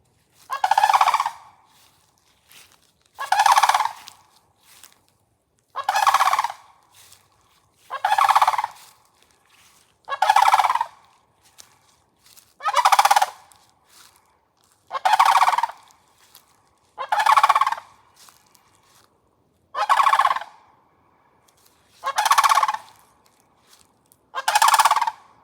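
Large long-legged cranes calling loudly in the morning, a flock giving about a dozen evenly spaced raucous bursts, each roughly a second long, with quiet gaps between and no talking.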